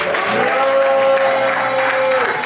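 A church congregation at a Sunday service applauds and acclaims, a dense, loud, continuous wash of clapping from the whole room with a sustained tone running beneath it.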